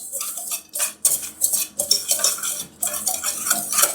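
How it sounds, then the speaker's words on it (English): A whisk stirs flour, cocoa and kosher salt together in a bowl for a chocolate pudding cake, clattering in quick, close, uneven bursts against the bowl with brief pauses. "we're going to mix those together with a whisk"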